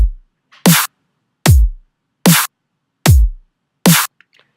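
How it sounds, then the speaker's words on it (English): A Riddim kick and snare soloed, alternating as six sharp, loud, isolated hits: deep booming kicks with falling low tails trading with bright cracking snares, separated by silence. "the first thing we're going to have a look at here is my kick and my snare alone."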